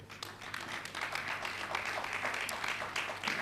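Conference audience applauding in a hall after a panel discussion, a steady dense wash of many hands clapping at moderate distance, sustained throughout without a clear break.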